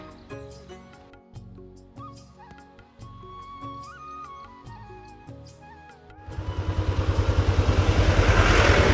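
A motorcycle is wheeled out and started at home before a long ride; after quieter rustling and household clatter, the engine catches and settles into a loud, steady, close idle pulse lasting several seconds.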